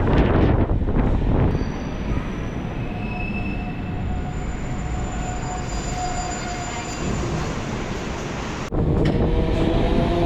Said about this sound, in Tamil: இப்போ அடுத்ததா ட்ரெயின் உள்ள என்ட்ரு ஆகுதாங்க மந்தவெளி ரயில்வே ஸ்டேஷன்.